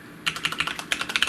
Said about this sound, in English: I typed it too many times